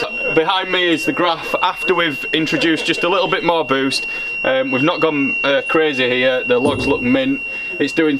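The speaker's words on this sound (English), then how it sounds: "sorry for the beeping in the background" A steady electronic beeping alarm in a dyno workshop where an Audi S3's packs overheated, a thin high tone persisting quietly under continuous talking.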